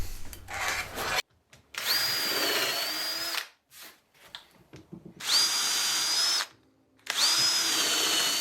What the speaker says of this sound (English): I'm going to screw and glue some of these planks together